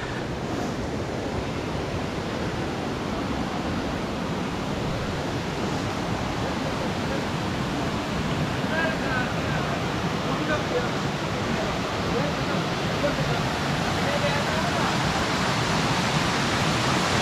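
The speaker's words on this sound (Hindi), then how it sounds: "यहाँ पर एक और झरने का निर्माण कर रहे हैं, देख सकते हैं।" Water from a waterfall at Nilam Sarai in Bijapur district, Chhattisgarh, rushes in a steady, dense broadband roar that never lets up, close and fairly loud, with no voices over it.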